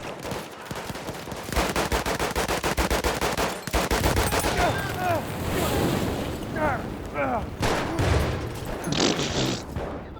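The 1903 Experimental gun fires in Battlefield 1, loosing rapid rattling bursts of shots in close succession amid battlefield effects, with brief pauses between volleys.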